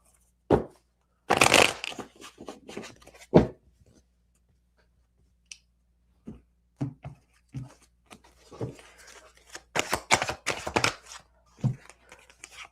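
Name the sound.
tarot cards being shuffled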